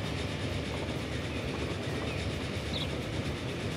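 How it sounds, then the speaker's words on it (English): A high-speed train on an anti-clockwise loop in the Transport Fever video game rumbles past with steady clattering wheels and a broad, constant roar that holds at one level for the whole stretch, with no voices. "another anti-clockwise Michigan loop train coming along this way at very high speed"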